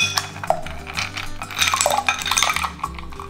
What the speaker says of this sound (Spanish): Incorporamos unos hielos.